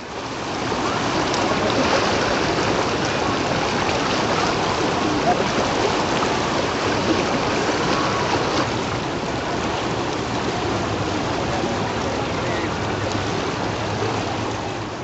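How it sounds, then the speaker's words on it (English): The Ganges running with a very strong current at a bathing spot in Uttarakhand, a dense, continuous rushing roar of water that stays loud and steady throughout, with no voices. "As you can see, the current of the water was extremely strong."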